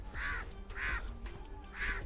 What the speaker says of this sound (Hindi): मैंने भगा दिया अपने कौवे को